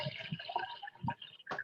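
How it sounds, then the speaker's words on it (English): Cold water being poured into a glass, a short run of trickling and splashing with a rising fill, close by and fairly quiet. "Oh, that sounds refreshing. Who's pouring a drink?"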